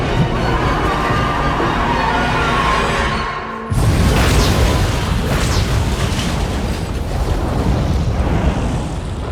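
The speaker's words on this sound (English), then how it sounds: "Their enemies, unable to stop, careen off the rails in a roaring explosion." A loud explosion bursts in after a steady mechanical rumble as vehicles careen off rails, followed by a sustained roaring blast and debris-like crackle that slowly tapers.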